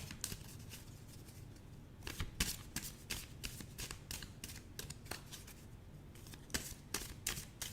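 Tarot cards being shuffled by hand, close up: a steady run of papery riffles and flicks goes on for several seconds, with a few louder bursts, and no one speaks.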